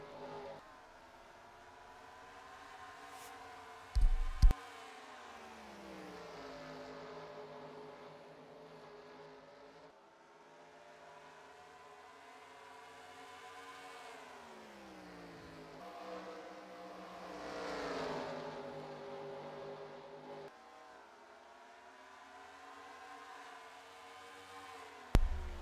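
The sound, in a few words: race cars in NASCAR-style racing video game at North Wilkesboro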